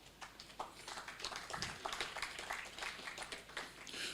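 Audience applause at a report launch at an official state function, a soft, fairly distant patter of many hands clapping in a steady wash for several seconds.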